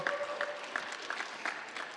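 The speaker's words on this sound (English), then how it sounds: "Let's have a round of applause for Luke." Short round of applause from an audience at an entrepreneurs' community gathering, an even patter of many hands clapping at moderate distance for the whole stretch.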